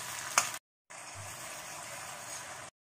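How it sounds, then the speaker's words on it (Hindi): Tomato and ginger paste fries in a pan with a soft, steady hiss that drops out briefly and then resumes, close and low in level, with no voices. "अब टमाटर को भून लेंगे"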